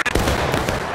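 Musket gunfire in the Civil War video game War of Rights, heard as a sharp, loud report followed by a rumbling, rolling tail.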